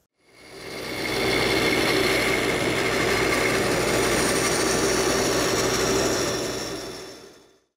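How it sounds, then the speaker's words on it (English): A bandsaw cuts a curve in a wooden rail for a blanket chest, a steady droning whine that swells in, holds evenly for several seconds, then fades away, with no voices. "I just finished cutting the contour on the bandsaw"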